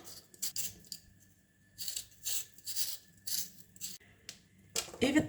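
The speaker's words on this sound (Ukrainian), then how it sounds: "А поки що очищуємо нашу картоплю." Potatoes peeled by hand in a home kitchen, several short scraping strokes of a blade across the skin in separate bursts, quiet and close, with a louder clatter at the end.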